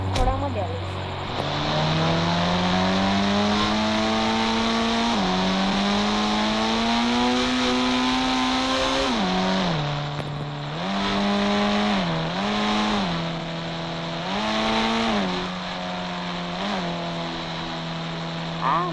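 Modified Mahindra Thar engine in the Indian Bike Driving video game, revving loudly and steadily with rising and falling pitch through repeated accelerations, close and continuous with no talk.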